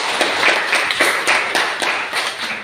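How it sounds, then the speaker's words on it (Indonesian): Classmates clapping in a classroom: a dense burst of many hands applauding together, loud and close, steady for a couple of seconds before tapering slightly. "beri tepuk tangan untuk teman-teman"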